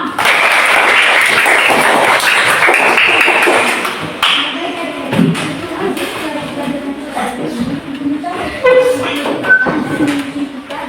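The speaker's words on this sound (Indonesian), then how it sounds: "Tepuk tangan kita semua." Classroom applause from a group of students during a micro-teaching session, dense clapping for about four seconds that then thins out into scattered taps and room noise as a teacher starts speaking.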